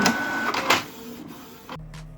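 An unreliable printer prints cake pictures for a styrofoam fake birthday cake project, giving a brief mechanical whirr and feed rattle up close before a sudden cutoff into quieter hum.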